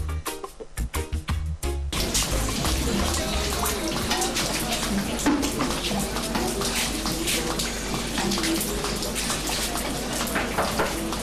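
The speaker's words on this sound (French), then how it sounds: "Voici le robinet de la cour." Water gushes steadily from a courtyard tap, a loud continuous splashing rush that starts abruptly after a couple of seconds of clattering sounds and keeps running to the end.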